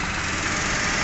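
A Toyota Wigo engine idles just after starting, a steady, dense mechanical hum heard up close with no other sounds.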